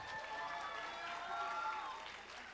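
An audience at a tech hackathon event applauds, a faint, steady patter of many hands clapping in a large room, with a low murmur of crowd under it.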